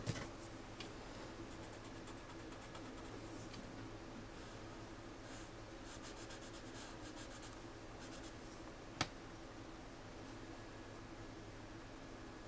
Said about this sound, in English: I'm kind of holding my pencil just a little bit sideways to help me with the thick lines